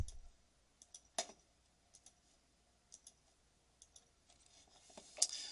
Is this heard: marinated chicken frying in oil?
no